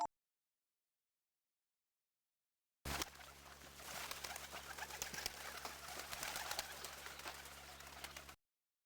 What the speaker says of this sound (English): a flock of pigeons took off into the sky all at once